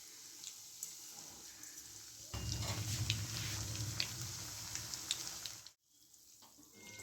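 Cauliflower popcorn fries in a pan over low gas: after a quiet start, a faint, steady sizzling hiss runs for a few seconds, then drops away abruptly.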